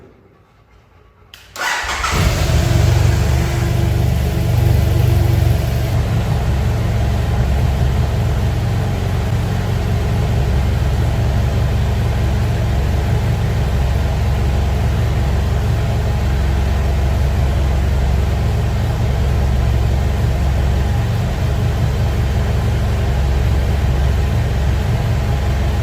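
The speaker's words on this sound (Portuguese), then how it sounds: "Então eu vou ligar a moto" A motorcycle engine starts after a short crank and then idles steadily, a loud continuous mid-pitched rumble that runs alone for the rest of the stretch.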